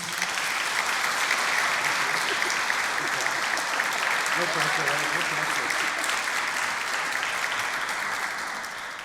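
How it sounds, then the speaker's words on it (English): Warm, sustained applause from an audience greets a speaker at an event on ending the death penalty in California, steady and full for about nine seconds with a faint voice briefly underneath. "So without further ado, please give a warm round of applause to Franky Carrillo."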